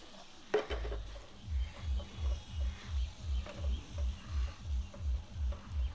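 Fried soybeans stirred through besan masala in a wok, with a rhythmic scraping stir repeating about twice a second over a soft sizzle, close and steady.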